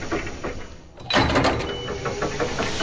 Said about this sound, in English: Because these doors are extremely loud.